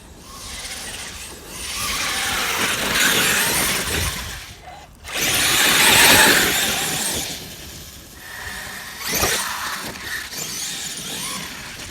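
A Traxxas X-Maxx 8s RC truck with a Hobbywing brushless motor and high-speed gearing runs in loud, harsh bursts of motor whine and tire roar, surging, dropping out briefly, then surging again.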